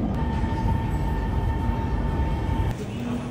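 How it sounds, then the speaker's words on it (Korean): A subway train in Hangzhou, wrapped in a vitamin-drink advertisement, rumbles past at night as a steady, loud low roar that drops slightly near the end, with no talk. "비타민 음료가 랩핑된 전철입니다"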